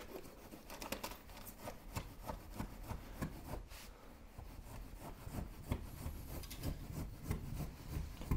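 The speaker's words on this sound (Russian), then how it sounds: "Легким движением ножа происходит резка утеплителя." A knife slices through insulation material during attic insulation work. Quiet, repeated rasping and rubbing strokes keep a steady rhythm, with no speech.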